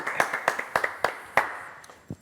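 A small studio audience gives a performer a few sparse, distinct handclaps. The claps come irregularly, thin out, and end with one last lone clap.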